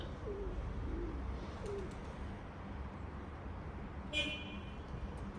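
A car horn toots briefly around the middle amid outdoor ambience, with pigeons cooing nearby and a low background hum of traffic.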